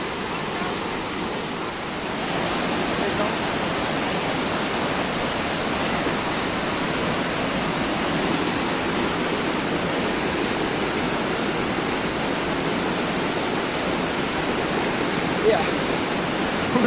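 Water rushes steadily into a natural mountain pool, a loud continuous roaring wash that stays nearly unchanged throughout, close to the listener.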